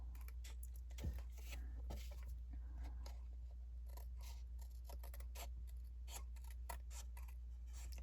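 Scissors trimming the edge of a paper greeting card, a series of close, crisp snips and paper rustles at irregular intervals over a steady low hum.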